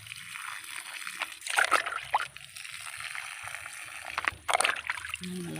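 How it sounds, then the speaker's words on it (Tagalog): Water is poured from a container onto young growing plants on a farm in hot weather, splashing and sloshing in uneven bursts at close range. "Pagustuhan natin ng tubig para hindi sila malamta kasi mainit ngayon."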